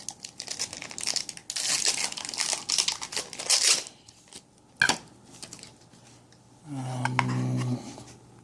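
Plastic packaging crinkles and crumples while a doll is unboxed, with dense bursts of rustling through the first few seconds, a sharp snap near the middle, then quieter handling and a brief low hum near the end.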